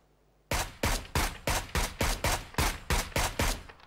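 A rapid series of about eleven sharp gunshots from a Beryl M762 rifle in the video game PUBG fires in an even rhythm, loud and close, following a brief quiet moment.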